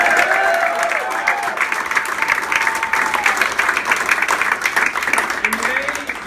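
Crowd applauding and cheering at a Dragonspine coronation and knighting ceremony, sustained dense clapping with a few whoops, with a voice speaking over the noise.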